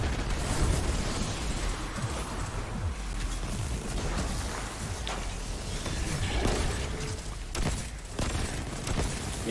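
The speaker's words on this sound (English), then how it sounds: "explosion's going off after the kill." Repeated explosions go off after kills in Destiny 2 during the Blind Well activity. Dense, continuous booms and bursting pops overlap at a steady loud level, with sharp cracks scattered throughout.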